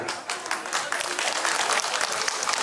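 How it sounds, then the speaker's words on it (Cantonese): An audience claps loudly and steadily to welcome a Chinese dance troupe on stage, a dense sustained applause lasting a few seconds. "掌聲鼓勵"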